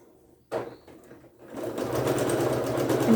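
A sewing machine starts after a brief knock and runs steadily at close range, stitching quilt triangle squares with a dense, continuous whir that grows slightly louder.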